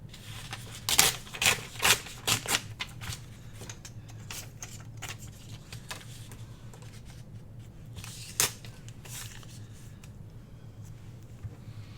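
Paper is torn by hand for a journal page, giving a quick cluster of close, crisp ripping bursts early on, one more sharp tear later, and quiet handling in between.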